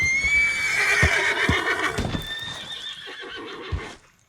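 A horse in Red Dead Redemption 2 whinnies in a long, high, wavering call, with a few dull thuds and hoof-like knocks beneath it before the sound fades out.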